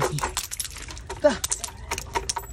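Coins jingling inside a coin bank found after rain, heard as close metallic rattles and clinks under excited talking.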